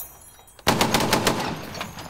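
A 50 cal machine gun firing live rounds on an outdoor range bursts in after a quiet moment as a rapid, heavy string of booming shots, loud and echoing, with no voices.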